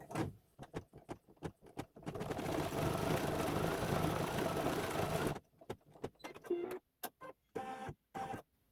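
An electric sewing machine stitches a Christmas-themed Santa's workshop quilt block, starting with short bursts, then running steadily for about three seconds, then stopping and starting again in brief runs, close and fairly loud with no talk.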